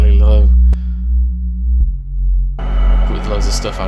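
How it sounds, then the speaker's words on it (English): A low-pitched sine wave synth bass holds deep sustained tones with a chorus sheen, rising again near the end with brighter layers over it, following a short burst of talk at the start. "It's just a sine wave, like, a pitched fairly low,"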